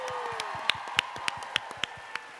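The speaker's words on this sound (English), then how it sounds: "so please give them a round of applause" Sparse, distinct claps from a small audience at a business leadership event, roughly evenly paced and fairly close, with a faint steady tone running underneath.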